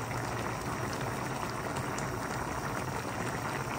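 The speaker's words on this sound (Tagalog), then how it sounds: "Pakuluan ko lang po yung ating suka." Organic apple cider vinegar boiling in a pot for chicken adobo, a steady close, loud bubbling hiss that holds without pause.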